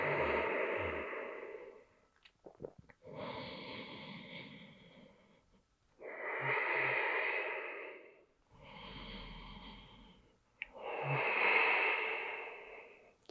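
During a Warrior 1 yoga pose, someone draws slow, deep breaths close by. Four or five long, airy inhale and exhale cycles are heard, each lasting a couple of seconds, with short quiet gaps between them.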